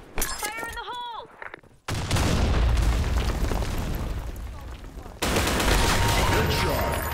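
A grenade blast and heavy gunfire in the video game Blackshot: after a brief vocal effect and near silence, a loud explosion erupts into a sustained roar of rapid shots, then a second loud burst near the end.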